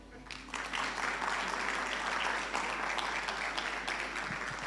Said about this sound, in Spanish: Si quiere puede aplaudir, así tomo agua.